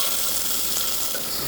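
Finely chopped onion sautéing in a spoonful of ghee in a hot pan, a dense, even sizzle heard close and fairly loud, alone and unbroken.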